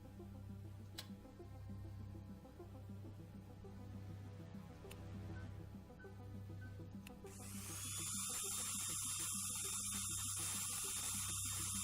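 A drill is switched on in the video game Stories Untold, rising after a steady mains-like hum into a loud, continuous whine that holds steady to the end.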